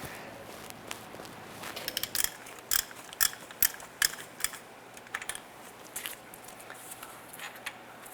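A ratchet with an 18mm shallow socket works loose a starter bolt from underneath a 2007-2012 Nissan Versa, giving a string of quick metallic clicks broken by several sharper knocks over a low background hum.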